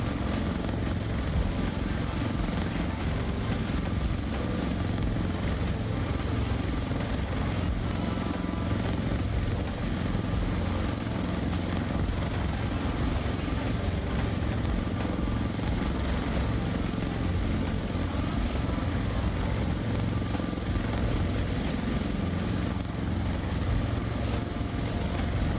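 A CowanSim S76C++ helicopter in a flight simulator game gives a loud, unbroken rotor and turbine drone with a thin high whine on top, steady for the whole stretch with no voices.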